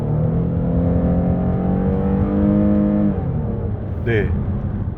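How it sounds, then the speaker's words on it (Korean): A Hyundai Staria Lounge's naturally aspirated LPG engine revs hard under acceleration, its pitch climbing steadily to high RPM before the gear shifts, with a person talking over the engine noise. "RPM이 끝까지 치솟으면서 쥐어짜는 이 자연흡기 LPG 엔진의 그 매력을 느낄 수 있으면서"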